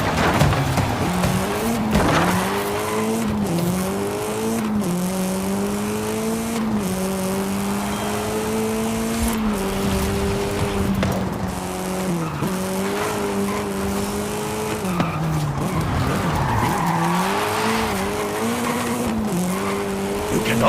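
A racing car drifts in the Forza Horizon 5 video game: its engine note climbs and dips continuously while tires squeal throughout, loud and close for the whole stretch.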